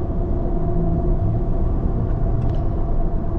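Lifted Ram 1500 pickup with a 9-inch lift and oversized tires picking up speed, a steady, loud low engine and road rumble from inside the cab, continuous throughout with no talking.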